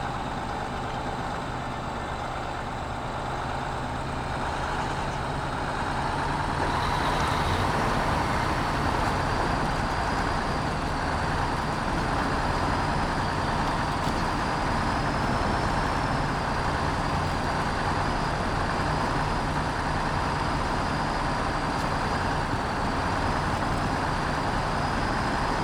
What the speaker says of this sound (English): Truck go. Wow. It's just like plowing right through the mud.